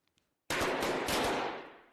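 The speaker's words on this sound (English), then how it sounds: "Let's pop some balloons." Balloons burst in a single loud, sharp, rushing blast that lasts about a second and then fades, with no voices.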